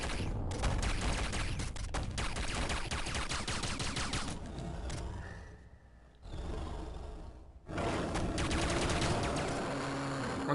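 Rapid bursts of gunfire from the video game Downwell fill most of the stretch, dense and loud, with a brief lull partway through before the shooting resumes.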